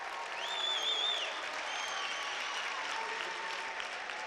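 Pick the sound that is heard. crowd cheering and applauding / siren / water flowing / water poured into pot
crowd cheering and applauding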